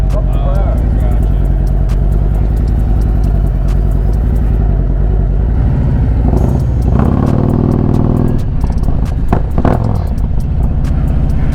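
A 2024 Harley-Davidson CVO Road Glide, 25th anniversary edition, rumbles through a ride with a deep, loud, continuous engine drone that swells briefly as it revs, someone talking over it.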